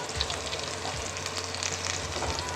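Steady sizzling of green chillies frying in hot oil for a dal tempering, a dense crackling hiss that continues without pause, close and moderately loud.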